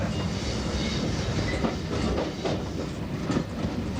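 A British Rail Class 47 diesel locomotive train rumbles steadily past close by, with a continuous heavy roar and faint rhythmic clacking of wheels on the rails.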